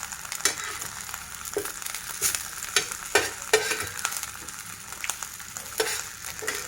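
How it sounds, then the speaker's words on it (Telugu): Curry leaves fry and are stirred in a pan, a soft crackling sizzle broken by irregular scraping strokes of a spoon at close range, with no talk. "కరివేపాకు కూడా మరీ డ్రై అంత ఎక్కువ వేయించకుండా జస్ట్ అట్లా ఆ తేమంతా పోయి పలపల అనేంత వరకు అట్లా వేయించుకున్నామంటే"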